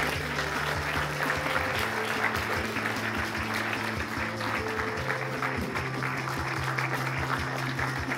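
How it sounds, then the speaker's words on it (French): A crowd at a series screening in Tourcoing gives a long, sustained round of applause for the teams of two shows, the dense clapping running continuously over sustained music in the background. "Tonnerre d'applaudissements pour les équipes des 2 séries qui sont là ce soir"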